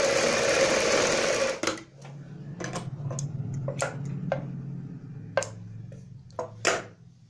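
A sewing machine stitches a kurti sleeve in a steady whirring run for nearly two seconds, then stops, followed by scattered sharp clicks and taps of the fabric and machine being handled nearby.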